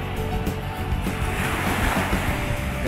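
Sea waves wash steadily nearby on the coast of Saipan, a continuous rushing surf with some wind buffeting the microphone.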